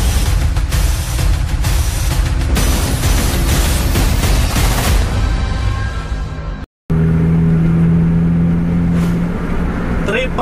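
A new Mercedes-Benz 2445 tronton sleeper bus with a 26-seat body pulls away with a loud, close engine roar that holds steady, breaks off for a split second, then resumes.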